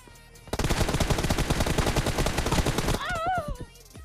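Rapid automatic gunfire in a mobile shooter game rattles in a dense, loud burst of evenly spaced shots for about two and a half seconds, followed by a brief rising electronic tone.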